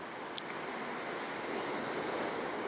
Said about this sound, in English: Those 45-foot waves pounding inland.